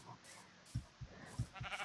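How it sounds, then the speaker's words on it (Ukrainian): A Minecraft sheep gives a faint, short bleat amid soft game footstep thuds and low background sound, with no talking. "Вівця."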